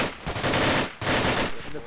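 Two quick bursts of rapid automatic gunfire crack loudly from enemies up a hill in a military shooter game, close and harsh, with a short gap between them.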